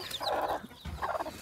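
A hen clucks near a turkey chick on a farm, two short bursts of close, throaty clucking separated by a brief pause, with no talk over them.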